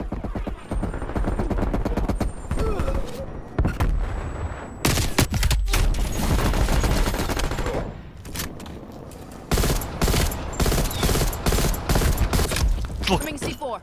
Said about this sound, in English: I shot right through that dude.